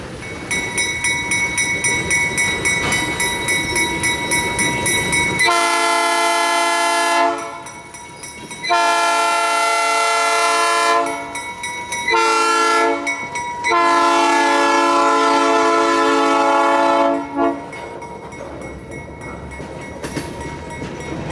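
A train pulls into Broadbrook Yard on the Springfield Line, its horn blaring in several long, loud blasts close by over a steady rumble, with no talk.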